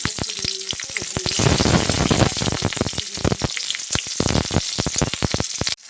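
Chopped garlic and green chilies fry in hot oil in a pan, a loud continuous sizzle with crackling spatters and some clattery stirring throughout, no voices.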